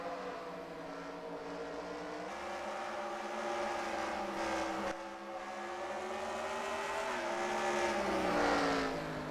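Engines of stock-style race cars roar in a video game race on the Eldora dirt oval, a dense, steady multi-car drone with shifting pitch and rising revs, no talk over it.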